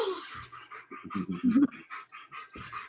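A German Shepherd dog panting close by, quick rhythmic breaths with a few whimpering, throaty sounds mixed in.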